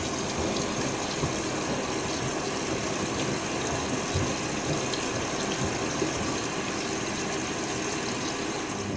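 A Hoover SIX AAA160 washing machine fills with water for its third rinse, giving a steady, even rush of flowing water and pump hum that runs unbroken throughout at moderate loudness.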